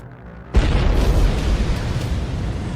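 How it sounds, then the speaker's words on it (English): Tank ammunition detonating after a drone dives into an open hatch: a sudden massive boom that keeps roaring and rumbling as a sustained loud blast, with no voices. "A massive explosion follows. The ammunition detonates violently."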